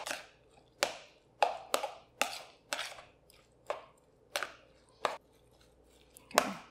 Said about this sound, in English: Let's give that a mixture real quick.